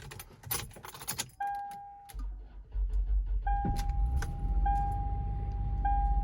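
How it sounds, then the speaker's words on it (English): Engine of a 2002 Lexus RX300 starting after a battery replacement, with keys jangling first, then a low motor hum settling into a steady idle while warning chimes beep repeatedly. "Now let's start the car."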